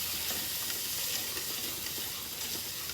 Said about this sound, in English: we're going to let the onions cook until they're translucent